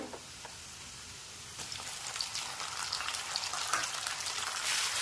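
Tomatoes sautéing with golden-browned onions in a pan for puri bhaji, a soft continuous sizzle with light crackles that grows slightly louder toward the end, no voices.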